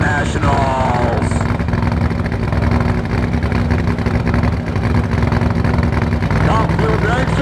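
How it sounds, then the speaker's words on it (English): A Top Fuel dragster and a Nitro Funny Car roar at a nitro drag racing event, a loud sustained engine blast filling the whole stretch with an announcer talking over it. "Top Fuel Dragster versus a Nitro Funny Car."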